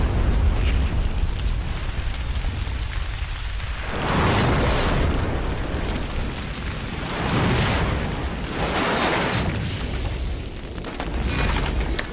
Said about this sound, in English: Well, it's exploding. An actual explosion.